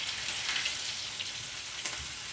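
Pieces of food browning in a hot pan give off a steady, soft sizzle and crackle, low and even throughout with no voices.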